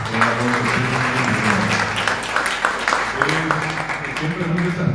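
Audience applause at a Guarani language and culture event opening the month of the Guarani language, a dense steady clapping crowd heard close and loud throughout, with a voice speaking over it.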